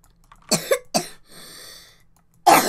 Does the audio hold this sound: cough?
yes